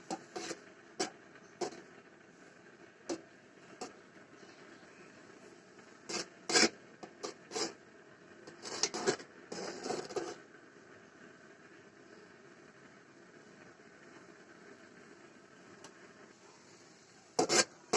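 A spoon scraping and stirring a patisapta pitha filling with milk powder in a pan, giving scattered soft rasps and sharper clacks at irregular intervals over a faint steady hum, quiet and near.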